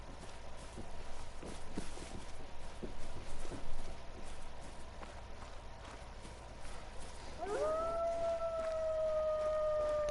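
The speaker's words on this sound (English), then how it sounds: "I hear the wolves howling" Wolves howl in a Yukon valley, a rising then long sustained wail entering late and holding steady over a noisy background with scattered thumps and faint movement.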